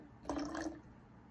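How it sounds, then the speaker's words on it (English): Water is poured out of a dark glass vessel holding LECA clay pebbles around a Philodendron verrucosum's roots, a brief, soft, close trickle lasting under a second. "I honestly want to pour a little bit more water out."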